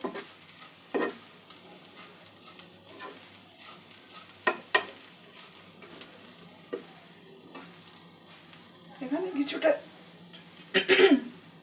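Poha is stirred with turmeric and spices in a pan, giving soft, sporadic scraping and light sizzling bursts. Quiet overall, with a few louder stirring scrapes near the end.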